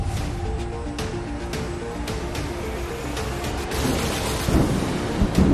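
Heavy rain pours steadily during flooding in Bihar, with repeated thunder cracks and rumbles building louder toward the end.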